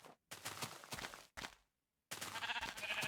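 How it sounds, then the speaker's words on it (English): Sheep in a Minecraft beta world bleat in short repeated bursts, fairly close and loud, with brief silent gaps between calls. "Oh, sheep."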